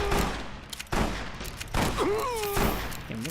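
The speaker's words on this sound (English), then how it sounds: "Is that just the brush gun? It's doing some damage." Loud bursts of brush gun fire in Fallout: New Vegas, Old World Blues, with heavy shots spaced about a second apart and a whining, warbling effect in between.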